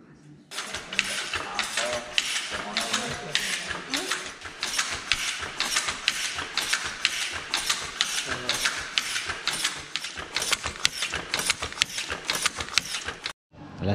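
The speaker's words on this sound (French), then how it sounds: "La salle des machines allemandes pour tisser la soie." German silk weaving machines run in a machine hall, making a steady, fast mechanical clatter of rhythmic clacks that continues without a break, with faint voices underneath.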